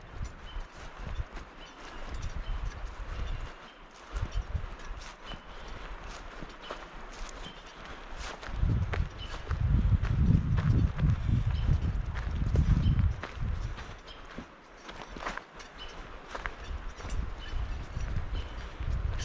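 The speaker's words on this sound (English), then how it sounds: "It is the burrowing of the pack mules over there." Pack mules moving along a mountain trail in the Olympic wilderness, with hooves clopping and shuffling over dirt and rustling vegetation, growing louder and closer midway before easing off, with no voices.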